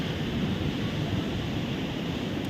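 Rough ocean surf at a beach in La Union gives a steady broadband wash of waves with wind noise, loud and continuous without distinct breaks.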